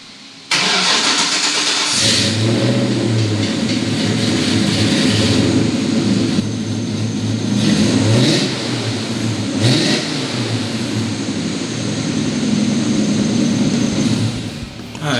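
A car engine, with broken wheels and parked near neighbours' houses, cranks and catches after a short silence, then runs loud and steady with repeated revs rising and falling close to the microphone for the rest of the clip.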